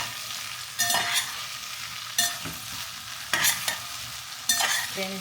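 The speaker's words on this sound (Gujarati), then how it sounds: "બધાને પ્રોપર રીતે મિક્સ કરી દઈએ." Okra and potato curry stirred in a pan over a constant sizzle, punctuated by four loud bursts of scraping as the spoon sweeps through the vegetables at roughly even intervals, with no speech.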